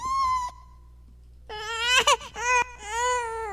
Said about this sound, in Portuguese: Temos bebê chorando.